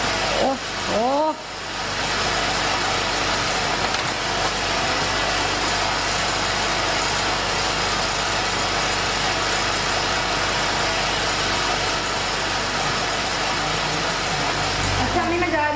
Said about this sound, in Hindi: ये जनरेटर चलाते हैं, इसके शोर से मुझे बहुत दर्द होता है सर में।